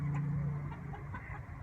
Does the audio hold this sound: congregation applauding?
no